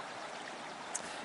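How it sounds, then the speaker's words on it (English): A babbling brook at Lightning Lake in Manning Park heard from a bridge, a soft, steady rush of flowing water, faint and continuous with no voices. "Hopefully you can hear the babbling brook in the background."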